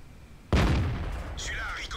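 An AMX 13 90 tank's main gun fires in a tank video game: one sudden heavy blast that rumbles and fades over a second, followed by a faint mechanical whir.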